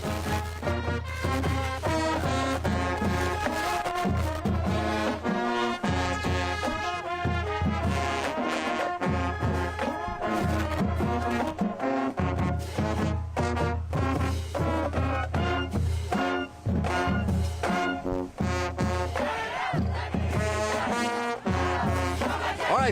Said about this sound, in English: The band started playing, so we got to go to the band.